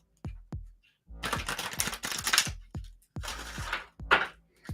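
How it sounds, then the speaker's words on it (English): Oracle cards shuffled by hand, a series of crisp riffling and tapping bursts with brief pauses between, close and clear with no talking. "One more shuffle."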